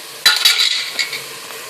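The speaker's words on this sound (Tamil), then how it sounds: "நல்லா வதங்கணும்." Ingredients being sautéed in a pan on low heat, a short burst of spoon scraping and stirring with light sizzling that trails off quickly, close by and without talk.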